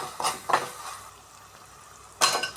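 Ginger paste fries in oil with onions and green chillies as a spoon scrapes and stirs the pan in a few quick strokes, with a soft sizzle running underneath between the stirs.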